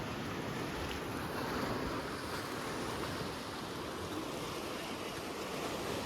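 Sea water surges into a flooded cave shrine in a steady, continuous wash, like surf with wind buffeting the microphone, with no voices.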